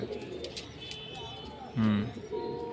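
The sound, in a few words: Madrasi pigeon cooing in loft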